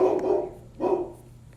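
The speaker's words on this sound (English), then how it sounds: "That's my dog." A dog barks twice close by, two deep, full barks less than a second apart, with a short quiet gap between them.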